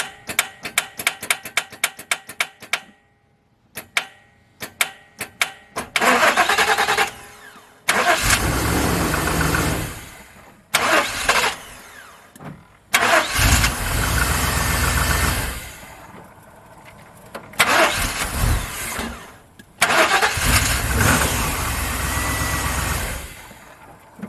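A car engine cranks repeatedly and fails to start, with a possible starter fault and a side-terminal battery bolt involved: rapid clicking bursts first, then several long, loud cranking spells separated by silent gaps, no voices heard.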